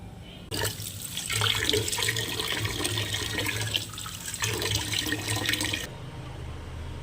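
Freshly cut water spinach greens are washed in running tap water, a close continuous splashing rush that starts abruptly, dips briefly midway, and stops short before the end.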